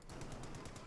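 Machine gun fire in Company of Heroes 2 rattles in a rapid, evenly spaced burst of about eight loud shots.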